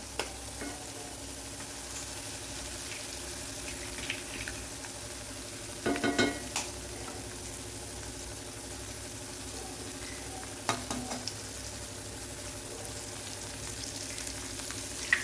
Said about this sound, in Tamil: இப்போ நான் எக்கு உடச்சி ஊற்றிக்கிறேன்.